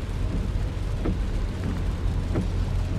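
A car drives along a road, heard as a steady, even rumble of road and engine noise throughout, with a couple of faint brief thumps and no voices.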